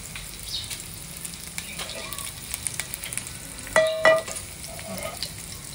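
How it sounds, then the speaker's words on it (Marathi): Garlic goes into hot oil in a pan and sizzles steadily, with scattered light crackles and a sharp metallic clink of a utensil against the pan near the end. "आता सगळ्यात पहिले मी ह्याच्यावर लसूण टाकणार आहे"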